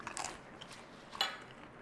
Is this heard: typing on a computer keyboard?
no